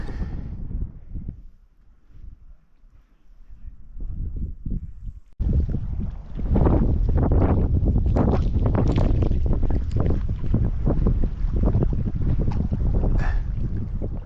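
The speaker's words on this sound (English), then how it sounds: "As I came into Lake Sally Ann, the wind began to pick up" Wind picking up at a mountain lake along the Pacific Crest Trail: gusts buffet the microphone in heavy, roaring bursts that grow louder and more constant after a brief lull, with no voices.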